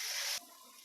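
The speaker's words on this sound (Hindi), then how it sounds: "अब इसमें हम जिस कटोरी से हम सूजी लेंगे उसी कटोरी से 2 कटोरी का जितना पानी डालेंगे।" Water poured from a bowl into a semolina breakfast mixture: a short, fairly loud gush of running water close by that cuts off abruptly, followed by faint room noise, with no voices.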